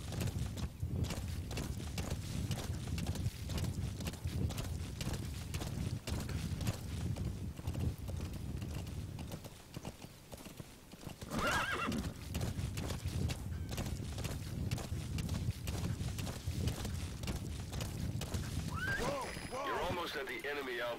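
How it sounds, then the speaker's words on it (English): Horse hooves clip-clop steadily at a walking pace through most of the stretch, with a brief whinny near the end, all under game music and effects from Metal Gear Solid V: The Phantom Pain. "you got on your horse, good job"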